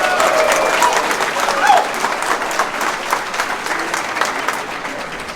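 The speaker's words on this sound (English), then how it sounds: "Just give them a round of applause." An event crowd applauds volunteers, dense clapping from many hands with some crowd noise and voices mixed in, strongest early and gradually thinning toward the end.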